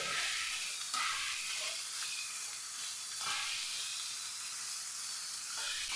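Chopped watermelon rind being mixed in a cooking pan over heat gives a steady sizzle and hiss, with a few brief scraping stirs rising above the frying noise, with no talking.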